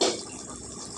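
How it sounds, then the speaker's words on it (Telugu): Raw milk pours into a simmering curry in a brief liquid splash that is loudest at the start, then fades into a soft bubbling hiss within a second. "ఈ టైంలో మనం ఇందులో పాలు పోసుకోవాలండి"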